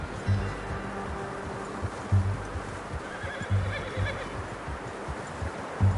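A horse in Red Dead Redemption 2 whinnies over a steady low rumble, with heavy hoof thuds landing every second or two at a slow, uneven walking pace, fairly close.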